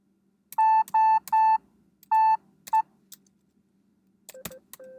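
Morse code sent from a keyboard to spell out digits of pi: a steady pure beeping tone keyed on and off in several long and short pulses, fairly loud against a quiet background, with fainter tones near the end.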